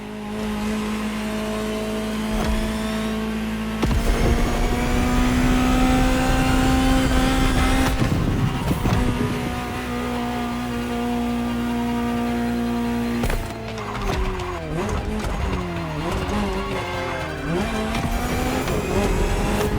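Ferrari GTO sports car in the racing game The Crew Motorfest, its engine holding high steady revs with sharp shifts and bursts of acceleration, tyres squealing briefly, loud and close with no talk.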